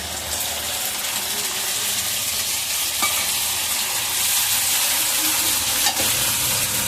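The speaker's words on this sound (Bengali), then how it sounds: "এবারে আমি এই মিক্সিতে বাটা মশলাটাও আমি ঢেলে দিয়ে দিয়েছি।" Ground spice paste frying in a pan for a goat-head curry, a loud continuous close sizzle with steady stirring scrapes throughout.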